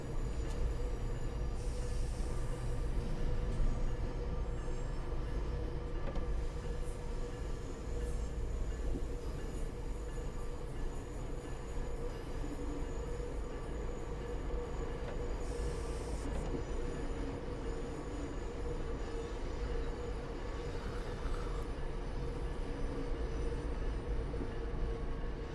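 Train running in the Train Sim World 5 game on approach to Boston Back Bay, with a steady, loud rumble of wheels and carriages throughout, occasional faint squeals and clicks on top and no talking.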